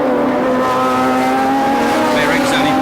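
1976 Formula 1 race cars howl through a street circuit lined with palm trees by the sea, a sustained high engine whine with shifting pitch, loud and close, under a commentator's voice.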